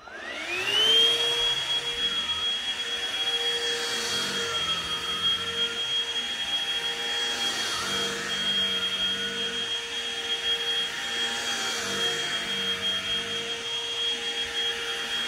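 A BISSELL Pet Hair Eraser lithium-ion hand vacuum runs steadily and close by, with a whining motor tone that rises as it spins up and then holds level, plus slight shifts as it moves over an ottoman.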